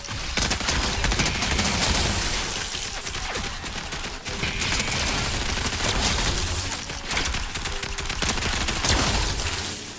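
Dense, continuous gunfire from shooting enemies in the Fortnite video game, rapid overlapping shots and bursts filling the whole stretch at steady high loudness, with no talk over it.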